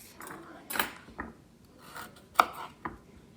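A knife cuts through food on a board while corned beef and cabbage is being prepared, giving several separate sharp chopping knocks spaced irregularly, close and clear against a quiet background.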